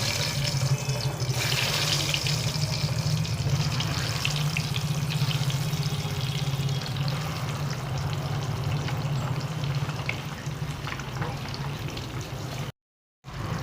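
An egg marinated with salt, turmeric and chili powder frying in hot oil, giving a steady, loud, close sizzle that runs continuously with a brief dropout near the end, no talk.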